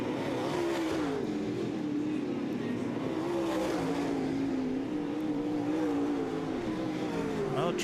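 Dirt track race cars circle the oval at Southern Ontario Motor Speedway, their engines blending into a loud, continuous roar that rises and falls slightly as the pack runs close together throughout.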